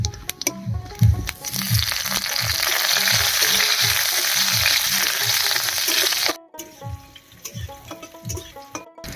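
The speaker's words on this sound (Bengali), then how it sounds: "লঙ্কাটা ভাজা ভাজা হয়ে গেছে" Green chilies, whole cumin seeds, bay leaves and dried red chilies sizzle loudly in hot oil, a steady crackling fry with rhythmic scraping of a spatula, then a brief pause before quieter stirring and clinks resume.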